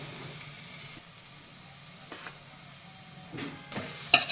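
Masala paste frying with potatoes in a pan for Kolhapuri Sangam vada, a steady soft sizzle with occasional stirring scrapes and a few louder clatters toward the end, no talking.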